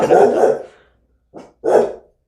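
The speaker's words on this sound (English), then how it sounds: "My God, that's my dog." A dog gives a few barks close by: one long gruff bark, a pause, then a short yip and another bark.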